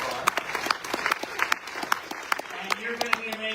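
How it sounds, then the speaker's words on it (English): Audience at an outdoor national protest rally in Palm Springs, California, breaking into applause: a dense run of sharp claps with scattered louder hits, people talking over it, ending with a steady hum underneath. "give them an applause for all the people who've been up here so far"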